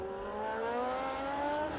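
A 1972 Formula 1 race car driven by Denis Hulme at the French Grand Prix on the Clermont-Ferrand circuit roars past close by, its engine note climbing steadily as it goes by alone.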